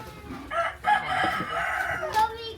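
A chicken clucks and crows in short bursts at a dried-fish drying yard, fairly close and moderately loud against faint background noise.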